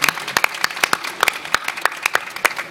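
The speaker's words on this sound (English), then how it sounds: "Let us give a round of applause to Professor Sassen." A conference lecture audience claps together in steady applause, sharp individual claps standing out in an even, lively rhythm.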